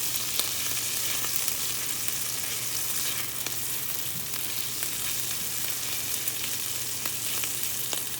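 Garlic sizzling in a hot pan, a steady dense crackle and hiss that holds even and close throughout with faint scraping stirs, no voices.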